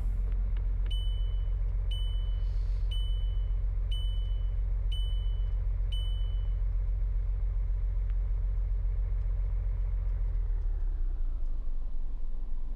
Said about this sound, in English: Do I actually have to just keep driving until I run out of fuel?